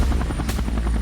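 A cartoon helicopter's rotor thumps in a fast, loud, continuous beat, close and steady throughout the short stretch.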